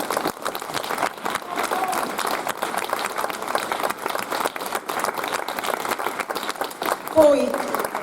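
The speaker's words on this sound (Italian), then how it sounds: "io pedo veramente un applauso per Andrea" Audience applause for Andrea at an outdoor rhyme event in Italy, a broad steady wash of clapping from a crowd that runs throughout, with a brief louder rise near the end.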